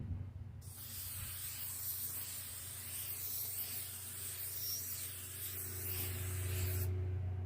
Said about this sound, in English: so now I have to apply the clear coat, and that's where the magic is going to happen